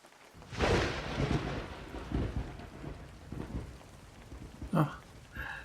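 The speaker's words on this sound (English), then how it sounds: "Oh, the poor thing is afraid of thunder." A close rumbling thunderclap rolls out over steady rainfall, with scattered raindrop patter and a few lighter knocks as the storm continues.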